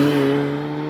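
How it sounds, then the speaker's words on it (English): A supercharged Mini Cooper JCW engine holds a steady, loud droning note with a whining supercharger edge, sustained without a break for about a second. "there's so much noise from the supercharger"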